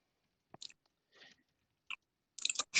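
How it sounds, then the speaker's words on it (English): Someone chews a cough drop up close, giving a few faint, scattered crunching bites that grow into a louder, denser burst of chewing at the end. "You were chewing your cud there, dude."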